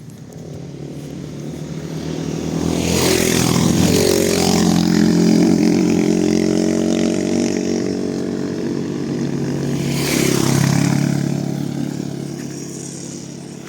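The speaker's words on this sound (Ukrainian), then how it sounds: "О, це мотоцикли їдуть." Several motorcycles approach and roar past on a mountain road near Truskavets, their engine drone swelling to a loud peak, easing, then a second rider passes close before the sound fades away.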